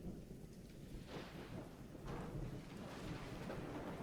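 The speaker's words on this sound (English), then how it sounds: "the rain noises are so loud now" Heavy rain pours steadily with rolling thunder rumbling underneath, loud and close, a dense continuous storm ambience with swells around the middle and end and no voices.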